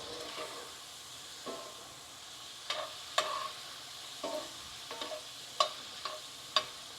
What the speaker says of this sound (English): we're starting to turn pink, so I'm going to go ahead and give these a little stir